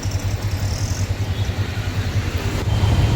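State transport buses idle at an old depot, a low steady engine rumble with rhythmic pulsing, fairly loud and close, with a faint brief high whine early on.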